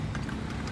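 Hooves of a horse pulling a kalesa clop on the road in San Fernando, Pampanga, in a quick, close rhythm.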